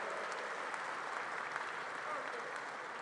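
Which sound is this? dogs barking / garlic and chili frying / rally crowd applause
rally crowd applause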